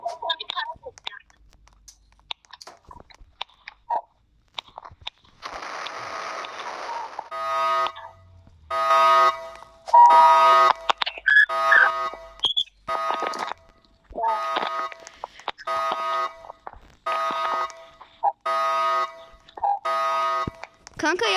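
An electronic alarm in the video game Brookhaven rings in repeated bursts, a buzzing pulsed tone starting and stopping over and over, with brief whispering between.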